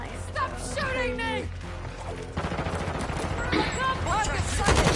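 Rapid gunfire rattles through a solo match of the video game Call of Duty: Warzone, dense bursts running continuously under excited talk and game voice lines, loud and busy throughout.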